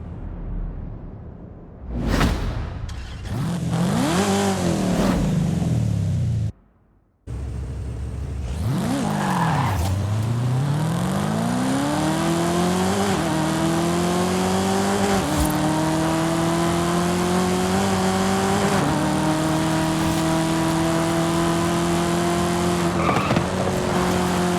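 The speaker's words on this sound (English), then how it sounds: "The exhaust note sounds very tame." A 2017 Chevy Camaro ZL1 with a supercharged engine in Forza Horizon 5, revving and accelerating through gear shifts with rising engine tones, tire squeal early on, loud and close with no talk.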